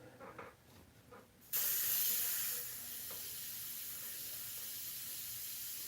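An airbrush sprays Createx Illustration Colors onto Blair synthetic paper on a painted fox's nose. A steady close hiss starts abruptly, loud at first, then settles to a constant softer spray that runs to the end.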